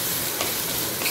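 Onion frying in a pan for a Bengali yardlong bean (borboti) bhorta, with a steady sizzle and a spatula stirring and scraping throughout, close and fairly loud, no voices.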